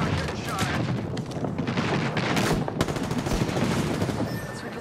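Gunfire from a winning Apex Legends match rattles almost nonstop in rapid overlapping bursts, with booming impacts mixed into the dense battle noise.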